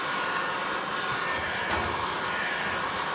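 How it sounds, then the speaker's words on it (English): Heat gun running at reduced power while removing a decal from a Fisher & Paykel Smart Drive washer touch panel, giving a steady broadband airy whoosh, continuous and close, with no talk. "Now usually I'd have this heat gun going full blast, but I've got it down a bit so that you guys can hear what I'm saying."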